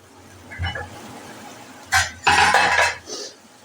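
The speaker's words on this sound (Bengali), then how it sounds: "সেই ডালটাকে আমি ঢেলে দিলাম।" Boiled lentils are tipped into a cooking pan on a gas stove, with metallic pot clanks and a brief wet, rushing pour that swells then fades, heard up close.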